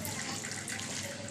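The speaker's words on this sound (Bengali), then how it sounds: "এবার মটরটাকে আমি ভালো করে নেড়ে নিয়ে জলটা দেবো" Water is poured steadily into a pan of ghugni peas, a continuous close gushing splash with no talk.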